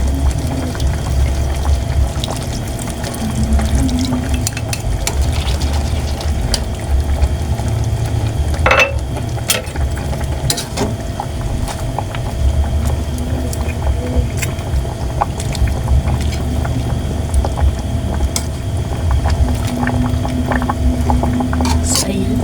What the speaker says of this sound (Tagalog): Hayaan po muna natin kumulo hanggang sa maluto.